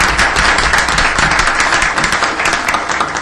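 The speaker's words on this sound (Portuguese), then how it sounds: "E eu queria pedir aqui a todos os presentes uma salva de palmas por esse nobre guerreiro." An audience at a formal ceremony gives an honoree a round of applause, dense and continuous clapping filling the room at steady volume throughout.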